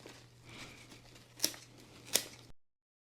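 Two sharp scissor snips cut back mealybug-infested houseplant stems, close and distinct, with soft rustling of foliage between cuts.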